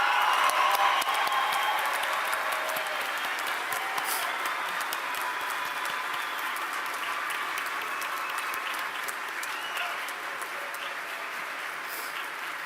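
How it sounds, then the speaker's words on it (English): Steady, sustained applause from a large crowd at a college commencement, even and continuous throughout with no talk over it. "Let all of us join in a warm round of applause"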